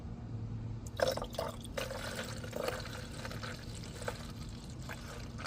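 Engine coolant/antifreeze poured into the reservoir of a 2008-2013 Nissan Rogue, a quiet steady trickle of liquid with light splashy gurgles over a low background hum.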